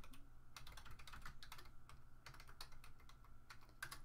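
Typing on a computer keyboard into a library database search, a quick irregular run of crisp key clicks, faint and close, steady throughout with no talking.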